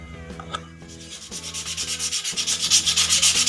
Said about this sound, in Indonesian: digosok seperti ini dengan manual, dengan amplas yang agak sedikit halus lagi daripada ini